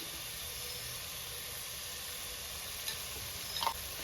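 Onions sautéing in a pan with a teaspoon of turmeric powder for a Kerala-style crab roast, a quiet steady sizzle with a couple of faint clinks of stirring near the end.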